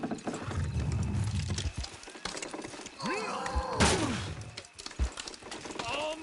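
Horses in a video game whinny with rising and falling cries while hooves clip-clop and thud nearby, mixed with scattered clattering and a voice talking underneath.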